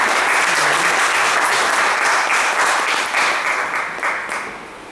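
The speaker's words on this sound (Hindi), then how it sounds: "तालियों से स्वागत करें" Dense, sustained applause from an audience at a theatre directors' seminar as a speaker comes to the stage, loud and steady before tapering off near the end.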